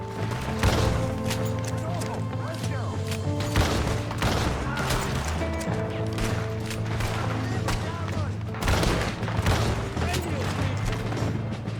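Gunfire in the video game Red Dead Redemption 2 rings out in repeated sharp bursts and scattered single shots across the stretch, loud and mixed with game ambience.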